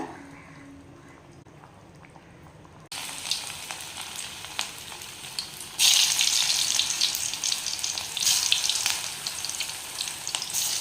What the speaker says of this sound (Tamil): நான் வந்து கோலா உருண்டையை எண்ணெயில் போட்டுட்டேங்க போட்டு நல்லா வந்து நல்லா பொறிச்சு எடுத்துடலாம்